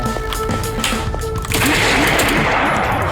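Rapid automatic gunfire from a first-person shooter game, Project Downfall, a dense burst of shots rising in intensity partway through, loud and continuous.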